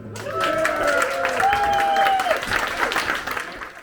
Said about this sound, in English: So big round of applause for Jim.